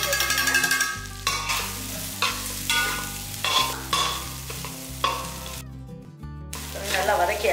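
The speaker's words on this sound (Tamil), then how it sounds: "இதுலேயே 2 கருவேப்பிலை, கொஞ்சமாக புதினா இலை எல்லாமே வதக்கிடலாம்" Curry leaves, mint leaves and grated coconut stirred and sautéed in a pan for a Tamil country chicken curry, steady scraping and soft sizzle with repeated stir strokes under continuous background music.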